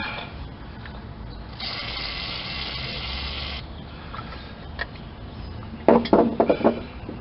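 During a brake line install on a 2006-2007 Dodge Magnum, a short aerosol spray hisses for about two seconds, followed by metallic clicks and a ratcheting wrench.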